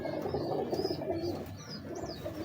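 Breeder pigeons coo in low, throaty rolling calls, several birds close by and overlapping, with a few faint chirps above a constant background murmur.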